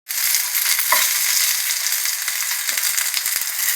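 Sambar ingredients frying and being stirred in hot oil in a pan, a steady close sizzle with occasional scrapes and clinks of the stirring spoon throughout.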